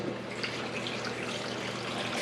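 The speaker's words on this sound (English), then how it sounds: "We're going to add water." Water poured into a pot of turkey bones for bone broth, a steady close splashing and gurgling stream that runs continuously without pause, no talking over it.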